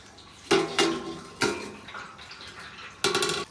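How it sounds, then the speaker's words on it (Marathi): Early-morning water filling at home, with metal containers and pots clanking in several sharp knocks between quieter stretches of running, splashing water. "हे बघा, एवढं सगळं पाणी आता भरायचंच आहे."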